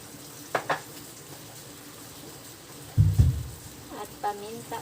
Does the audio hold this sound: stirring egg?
yes